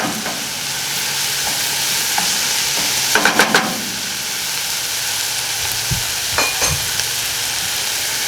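Tomato sauce for a meat lovers pizza cooks down in a pan with a constant close sizzle and bubbling, broken by a brief burst of utensil scraping and a few light clinks of stirring.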